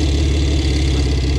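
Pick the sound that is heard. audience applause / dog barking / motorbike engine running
motorbike engine running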